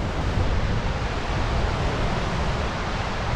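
Huka Falls on the Waikato River in New Zealand, heard from the top where the river narrows through a volcanic canyon: a powerful, continuous broadband roar of rushing water, steady and loud throughout, with no voices.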